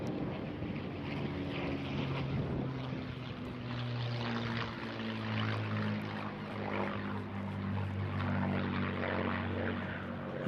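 A 1944 P-51D Mustang fighter with a bubble canopy flies at the Eastbourne International Airshow, its propeller engine giving a distant, steady droning hum that rises and falls in pitch as it passes, alone without talk.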